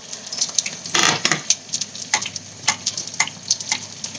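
Thai-style omelette eggs frying in plenty of hot oil, a steady close sizzle broken by sharp spitting crackles and pops, with one loud burst of bubbling early on; no talking.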